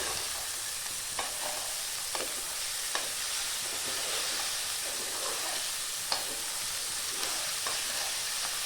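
Carrot sliced lengthwise fries in a hot pan with a steady, even sizzle, punctuated by occasional light clicks of stirring, with no voices.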